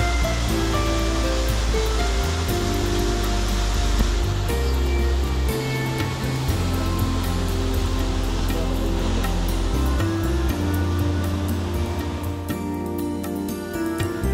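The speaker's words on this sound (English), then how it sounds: "a hike just over a mile to a beautiful waterfall plunging 40 feet" A 40-foot waterfall in Thousand Oaks, California roars in a steady, dense wash of rushing water, loud and continuous throughout with no voices.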